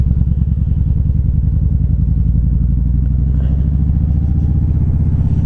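Kawasaki Vaquero motorcycle cruising on the road, its engine a steady, close, loud pulsing rumble with even firing beats and no talk.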